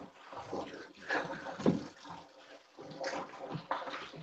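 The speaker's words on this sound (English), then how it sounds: "That's me emptying a bucket of water" A bucket of water emptied down a drain, pouring and gurgling in uneven surges for several seconds, fairly faint and somewhat distant.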